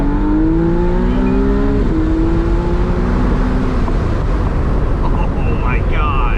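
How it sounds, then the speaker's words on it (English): A McLaren Artura's engine runs loud and close in a continuous drone whose pitch climbs, dips and holds steady across the whole stretch, with no clear pauses. "rev it out."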